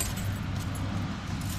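Keys jangle close by in a steady rattling stream against low engine-like rumble, as someone digs them out while checking trail cameras during bow season.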